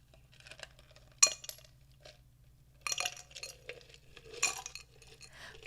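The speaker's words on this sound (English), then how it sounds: "I'm gonna put some ice in a glass." Ice cubes go into a glass in a quiet, close-miked setting: a few sharp clinks and crunchy rattles spaced a second or two apart over a low steady hum, with no talk.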